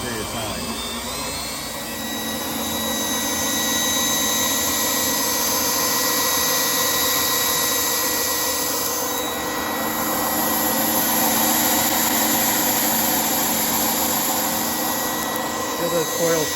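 A Vevor wire stripping machine runs continuously with a steady high whine and whirring motor drone as it strips wire sheathing, loud and close with talk over it.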